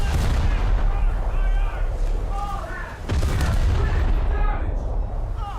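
Naval artillery fire in a warship video game, the USS Roanoke trading shots: heavy booming gunfire and rumbling blasts rolling continuously up close, with someone talking over the din.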